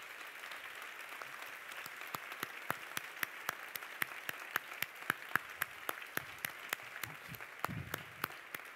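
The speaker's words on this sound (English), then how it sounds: "Please give them a big round of applause." Scattered, fairly faint claps from an audience welcoming speakers onto a stage, single hand claps picking up into a sparse, uneven patter against a quiet room hum.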